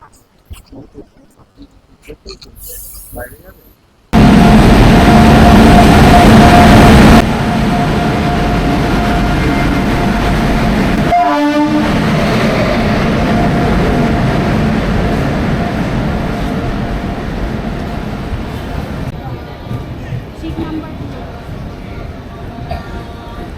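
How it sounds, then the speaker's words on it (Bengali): Loud, steady rumble and roar of the Dhauli Express passenger train in motion, heard from on board, with a brief tonal blare midway and the noise easing off toward the end. "ফাইনালি আমরা উঠে পড়েছি train number one two eight two one Dhauli এক্সপ্রেসে"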